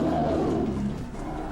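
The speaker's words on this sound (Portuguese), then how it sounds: "Foi o rugido mais horrível, mais assustador que eu já ouvi na vida" A horrible, frightening roar like something between a lion and a bear, a single sustained low growl lasting over a second, loud and close with no talk over it.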